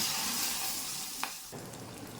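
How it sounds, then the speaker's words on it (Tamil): Okra roasting in a pan gives a soft, continuous sizzle with a brief sharp scrape partway through, close but fairly quiet. "ஸோ இது வெண்டைக்காய் பார்த்தீங்கன்னா இந்த அளவுக்கு ரோஸ்ட் ஆகிடணும்"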